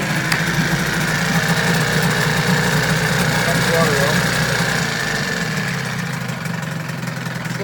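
A 1983 Johnson 15hp outboard motor runs steadily in a test tank with a slipping prop and a missing idle valve, a loud continuous rumbling drone that eases slightly toward the end.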